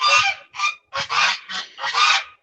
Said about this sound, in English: Those would be the geese that you're hearing.